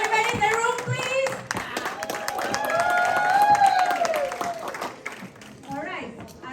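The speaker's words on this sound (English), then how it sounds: "Can I have a round of applause from everybody in the room, please?" An audience in a room applauds for storyteller and author Tim Holmes at a show, clapping and cheering with children's voices rising over it, swelling in the middle and thinning toward the end.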